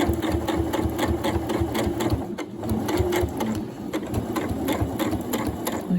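A Janome Horizon Memory Craft 9480 QC sewing machine stitches a zipper into fabric, producing a close, rhythmic rapid needle pulsing with a brief pause midway, running steadily without talk.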